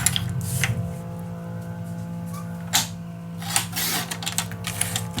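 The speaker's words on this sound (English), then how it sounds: "So now I just cut this shorter." Paper is cut shorter for a scrapbook mini album: a few brief rustling, scraping bursts against a low steady hum, with one sharp snip in the middle.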